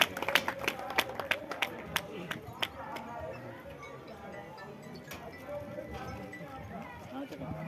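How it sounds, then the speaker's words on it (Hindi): Scattered hand claps from an audience at a cow shelter's 25th-anniversary felicitation ceremony, sharp and fairly close at first, then thinning into sparse claps over a murmuring background. "तालियों की गड़गड़ाहट से इनका स्वागत कीजिए।"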